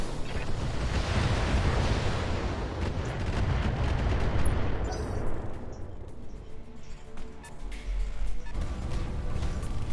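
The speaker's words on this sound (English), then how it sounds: "Firing a full salvo." Mech firing a full weapons salvo in the BattleTech video game, a loud dense roar of gunfire and blasts for several seconds that then thins into scattered sharp impacts and rumble.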